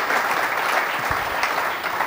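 An audience at a live German football talk event claps together in a dense, loud, sustained round of applause that holds steady throughout.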